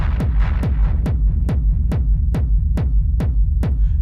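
Deep industrial techno kick drums thump in a steady four-on-the-floor pulse, each hit trailed by a low, smeared reverb rumble, loud and filling the space.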